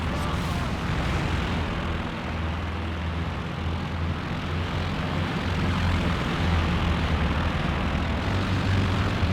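Warplane engines drone steadily through a Company of Heroes 2 battle, a loud continuous rumble thick with low-pitched roar and dull explosions, while a commentator talks throughout.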